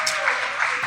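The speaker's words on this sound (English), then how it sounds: "The round of applause for each one of these guys and gal" Audience applause at a panel during the New England OCR Expo, a short steady burst of many hands clapping in a hall, fairly loud and continuous with no clear gaps.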